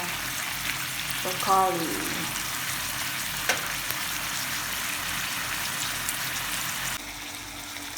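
Marinated pork frying in a pan at home, a steady close hiss and sizzle throughout, with a person talking briefly over it.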